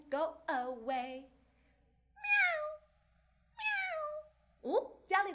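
A kitten meows several times in short, clear, rising cries, starting with two or three quick calls and then a few spaced single meows, close and fairly loud against a quiet background.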